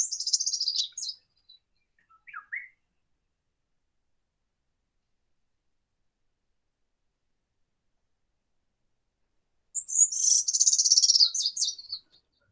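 Birds of El Romeral sing in short high chirping bursts at the start and again near the end, separated by a long stretch of near silence.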